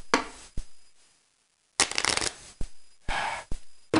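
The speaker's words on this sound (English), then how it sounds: "I'm trying my damnedest to get a good shuffle going" Several bursts of riffle shuffling from a deck of playing cards, each a rapid crisp flutter ending in a short snap, separated by pauses and one long silence, close and clear with no talking.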